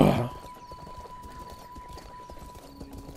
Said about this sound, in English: Wow, this horse is running.